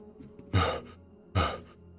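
A game master imitates heavy breathing with his voice during a tabletop fantasy session: two long, loud exhalations spaced about a second apart, close to the microphone, with quiet room tone between them.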